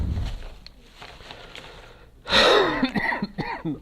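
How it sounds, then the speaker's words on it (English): After a stretch of quiet room noise, someone nearby lets out a harsh, loud cough, followed by rough throaty breaths. "Try to stop coughing."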